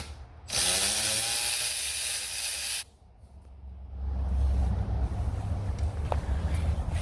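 A hand ratchet works on a brake caliper bolt during a wheel light bracket installation, with a loud burst of rapid clicking, a brief pause, then quieter mechanical rattling and low rumble close by.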